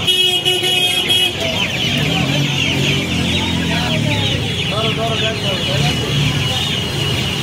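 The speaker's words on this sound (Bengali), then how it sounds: "এগুলো অস্ট্রেলিয়া মুরগি আছে, দেখুন বাচ্চা আছে।" Many chickens, including Australian breed hens and chicks, cluck and squawk continuously in a noisy crowd at a hen market in Uluberia, Kolkata, with people talking nearby and occasional crowing and a car horn in the background.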